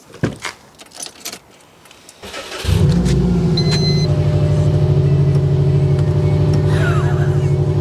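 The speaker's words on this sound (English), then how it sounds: "We turn the ignition on," Keys jangle and rattle in a Subaru Impreza Hawkeye before the engine cranks and catches, then settles into a steady, loud idle close by.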